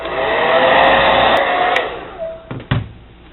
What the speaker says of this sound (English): Use the hair dryer to get a nice